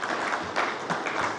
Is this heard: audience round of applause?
yes